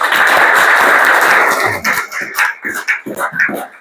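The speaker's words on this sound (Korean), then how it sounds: "우리 크게 한번 박수를 칩시다" A church congregation at a Korean Christian alumni group's monthly meeting claps loudly together for a couple of seconds, then the clapping thins out and a voice starts speaking in Korean.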